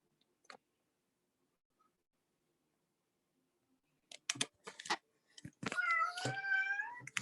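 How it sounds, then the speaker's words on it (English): After a quiet stretch with a few clicks, tapping sounds lead into a drawn-out cat meow, close and fairly loud, wavering in pitch. "That's the cat."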